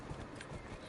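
Brief, quiet clip-clop of horse hooves in a PS4 video game, a few soft steps under game ambience.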